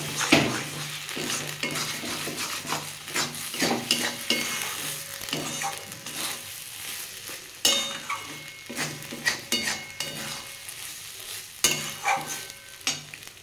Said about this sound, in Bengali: এটা দিয়ে আমি আরেকটু নেড়ে নেবো